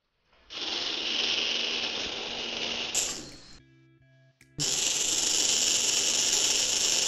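Small DC motors of an Arduino-controlled four-wheel robot car spinning, a steady high whirring buzz that cuts out briefly, stutters, then resumes at full strength, close to the listener.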